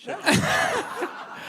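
A single sharp human sneeze bursts out close by with a quick gasping intake, then fades into quiet murmuring from people nearby.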